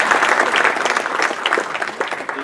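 An audience at a family office conference panel gives a brief round of applause, loud and close, a thick continuous patter of clapping.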